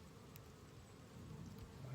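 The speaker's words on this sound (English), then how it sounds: "There's bees all over the ground." Bees crawl and buzz around the entrance of a weak hive in the shade, a steady close droning hum with no talking.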